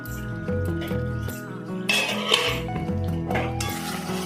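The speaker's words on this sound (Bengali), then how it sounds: "5 মিনিট হয়ে গেছে, আমি ঢাকনাটা খুলছি।" A metal lid lifts off a pot of chicken dakbanglo, giving a few close clinks and clatters of cookware against a steady background hum, with no talking.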